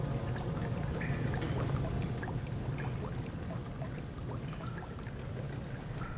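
Water drains away in the video game Amnesia The Dark Descent: a steady, loud pouring rush with a low rumbling body that runs unbroken from start to finish, with no voices over it.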